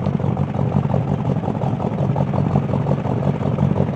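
A 1979 K10 truck engine idles with a deep, steady rumble, close and loud, its low pulsing exhaust note throbbing evenly throughout with no voices.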